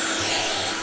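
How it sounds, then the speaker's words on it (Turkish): A window cleaning tool in the House Flipper video game gives a steady, loud whooshing hum much like a vacuum cleaner, holding one unbroken tone with no talk over it. "Tam bir elektrik süpürge gibi ses çıkarıyor ya."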